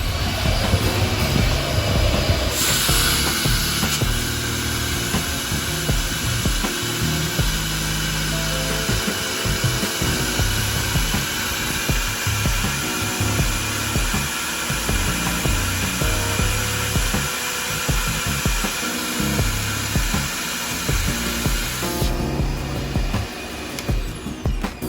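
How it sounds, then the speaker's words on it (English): A regular household vacuum cleaner draws air out of a large zip-sealed storage bag, a loud, steady whining roar that holds for most of the clip, its pitch shifting slightly as the bag collapses. "any regular old vacuum cleaner,"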